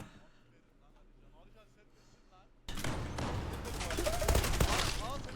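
Gunfire in the Zula online shooter game, a dense fusillade of rapid shots that starts abruptly midway and keeps going, loud and busy, with excited voices talking over it.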